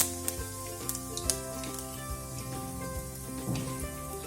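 Cumin seeds and curry leaves crackle and sizzle in hot oil for a savory guava curry, a steady close frying hiss with small pops scattered throughout.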